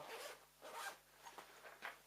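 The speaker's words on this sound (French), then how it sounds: "une fermeture éclair de cette taille, c'est tout le tour du sac" A large double zipper running all the way around a recycled bag is drawn in several short, quick pulls, faint and close, with brief pauses between strokes.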